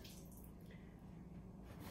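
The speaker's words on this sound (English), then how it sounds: "I'm gonna wash my hands now" Hands washed with soap under warm running water: a faint, steady splash and trickle with soft drips, quiet and close, no voices.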